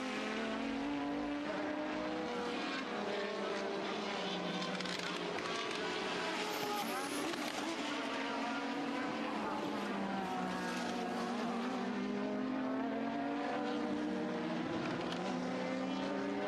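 1980s Formula 1 cars scream past on a wet Spa track through Eau Rouge, a continuous high engine wail rising and falling with gear changes, loud and unbroken throughout.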